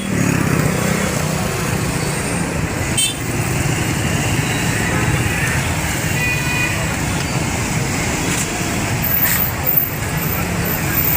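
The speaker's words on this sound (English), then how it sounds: "The traffic is flowing." Steady road traffic flows along Jumun Kianta Road, a continuous roar of passing cars and motorcycles with brief louder passes, heard alone without talking.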